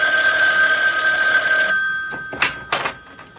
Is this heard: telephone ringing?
yes